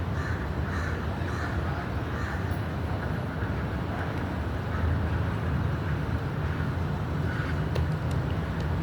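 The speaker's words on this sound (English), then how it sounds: "if you ever come across crows or you see frequent crows or you hear them" Crows cawing at a distance, a few scattered calls over steady broadband outdoor noise and low traffic rumble, with no one talking.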